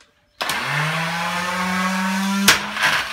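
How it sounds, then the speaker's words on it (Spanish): An electric food chopper whirs into a steady, loud motor drone as it crushes broccoli for a homemade breeding paste for finches, then ends in a sharp clack and a brief rattle. "vamos a proceder a machacar ya todo el brócoli"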